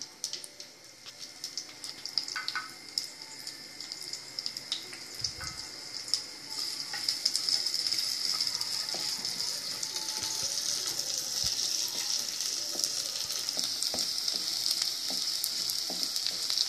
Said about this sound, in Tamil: சூடான உடனே வெங்காயம் போடலாம்